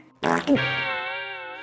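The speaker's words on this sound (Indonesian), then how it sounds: "kamu kentut ya?" A sudden, loud, buzzy fart starts abruptly and then trails off into a long, steady, tonal squeak.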